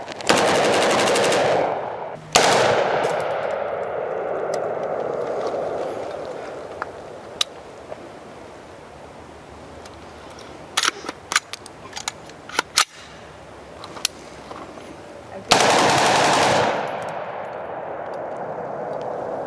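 A 7.5-inch M16 rifle fitted with a Carlson Nitro Flash Enhancer fires loud, close rapid bursts at the start and near the end, with scattered sharp single shots and clicks in between.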